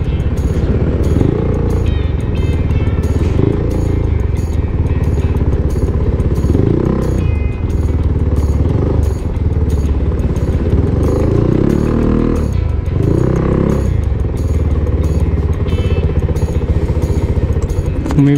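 A Royal Enfield Bear 650 scrambler motorcycle's engine rumbles loudly and continuously up close, with wind buffeting and faint passing traffic throughout.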